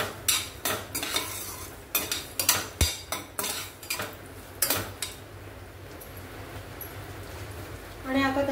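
Poppy seeds, cashews and almonds are stirred in a pan of ghee, a spoon scraping and clinking against the metal in short, quick strokes, fairly quiet, with faint sizzling underneath.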